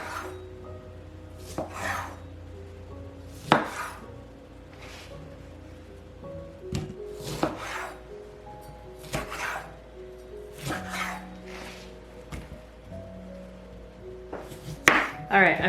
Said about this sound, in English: This is a bigger lemon, so I'm actually gonna cut this into 8s.